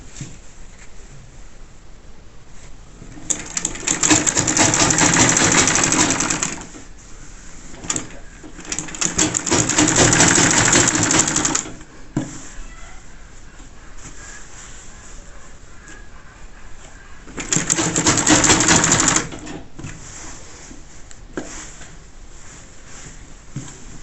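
Sewing machine stitching a trouser crotch seam in three separate bursts of rapid mechanical whirring, each a few seconds long, with quiet pauses between them and no talking.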